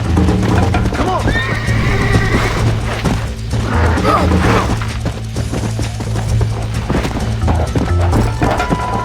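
Horse neighing in the Red Dead Redemption video game, a whinny rising over busy in-game noise with hoofbeats and crashes, while a player talks over it.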